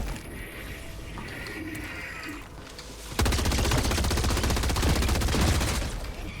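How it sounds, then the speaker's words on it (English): Rapid automatic fire from a Liberator Carbine in Helldivers 2 bursts in after a quieter stretch of game ambience, a dense, loud, continuous stream of shots shredding an enemy shield for the last three seconds. "Look how quickly the carbine shreds that shield."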